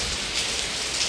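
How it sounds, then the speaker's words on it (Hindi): Heavy rain pours steadily outdoors, a dense, even hiss of drops striking surfaces, close and continuous with no voices. "ये जनाब बारिश आप देख सकते हो।"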